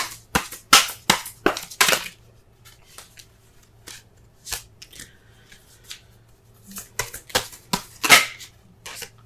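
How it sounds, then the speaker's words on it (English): Quick bursts of tarot card shuffling, several riffles early on then scattered softer shuffles and taps, close and crisp with no talking. "Let's go ahead and shuffle so we can get a clearer understanding of the cards here."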